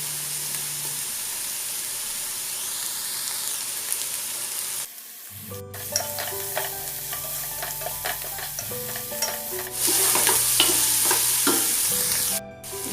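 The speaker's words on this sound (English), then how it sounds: "Stir it until the raw smell goes" Ginger garlic paste and mint leaves frying in a pan give a steady hiss and sizzle, close and moderate, broken by brief stirring scrapes, with a louder burst of sizzling near the end; faint background music plays underneath.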